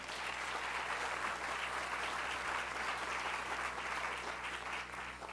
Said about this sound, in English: So another round of applause for our mayor.